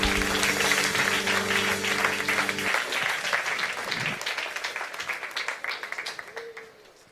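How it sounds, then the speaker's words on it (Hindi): A church congregation claps hands in praise during a sermon, a loud sustained burst of applause that carries over a held musical chord at first, then continues alone and gradually thins out. "Clap your hands if you want to and praise तालियां Him. बजाइए."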